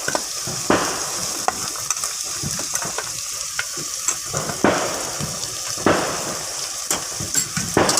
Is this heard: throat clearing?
no